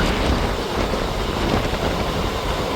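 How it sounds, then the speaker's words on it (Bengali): Azimganj–Howrah Ganadevta Express running at about 110–120 km/h, a steady, loud, continuous rushing roar of wheels and wind with no distinct clacks, heard close and alone. "ট্রেন চলছে 110 120-তে।"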